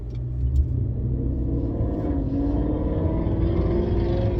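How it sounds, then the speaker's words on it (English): A loud car engine rumbles steadily close by, a low roar that holds throughout with a slight rising pitch, no voices present. "There was a car real loud and I had to look at it."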